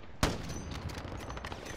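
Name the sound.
gunfire in the video game Call of Duty Warzone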